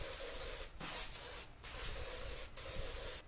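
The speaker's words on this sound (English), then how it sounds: "You're actually not allowed to spray the sprays?" A spray bottle fires several hissing bursts in a row, each a second or so long with brief gaps between, close and fairly loud with no talking.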